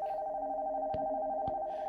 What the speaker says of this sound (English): The phone from upstairs.